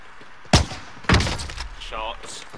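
Two sharp sniper gunshots crack about half a second apart in Call of Duty: Modern Warfare, close and loud, followed by someone talking.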